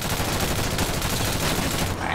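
Sustained automatic AK rifle fire in a video game rattles loud and close in a dense, continuous stream of shots, cutting off abruptly just before the end.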